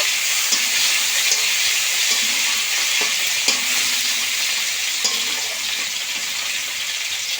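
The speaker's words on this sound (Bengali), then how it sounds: "কুচে রাখা টমেটো দিয়ে দেব, টমেটো একটু ভালো করে ভেজে নেব।" Chopped tomatoes with a pinch of asafoetida fry in a pan, a steady close sizzle broken by light scraping and stirring knocks, with no one talking.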